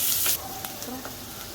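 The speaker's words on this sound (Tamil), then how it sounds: "சேர்த்துட்டு இதை வந்து நல்லா ப்ரௌன் கலர் வரைக்கும் நல்லா வதக்கிக்கலாம்." Onions frying in a clay pot for chicken gravy, a brief bright hiss at first that settles into a quieter steady sizzle, close by with no talk.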